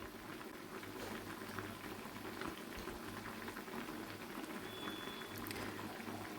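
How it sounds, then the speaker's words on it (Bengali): A pot of thin fish curry with fish, green chilies and vegetable stalks bubbles at a steady rolling boil, a continuous soft gurgle and fizz heard alone at low volume. "তাই মাছ দিয়ে মিনিট 5 ফোটাতে হবে।"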